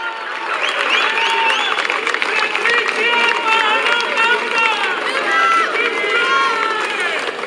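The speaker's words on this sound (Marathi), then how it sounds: "जोरदार टाळ्या या सर्व विजेत्यांसाठी" An audience at a Mumbai festival prize ceremony claps loudly and continuously for the winners, a dense, sustained wash of applause with crowd murmur mixed in and no pause across the whole stretch.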